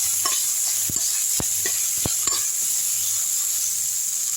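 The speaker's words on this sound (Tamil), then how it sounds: "புதினா போட்டுக்கலாம், நல்லா வதக்கிடலாம்" Mint leaves sautéed in a hot pan, a steady hiss of frying under a handful of sharp spoon taps and scrapes against the pan, close and alone with no speech.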